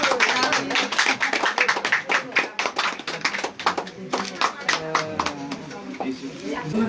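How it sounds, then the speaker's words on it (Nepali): Guests at a Kirati engagement ceremony clap through the cake cutting: dense, lively applause of many hands, close and steady, with voices chattering underneath. "सबैले ताली बजाउनु त केक काट्दाखेरि"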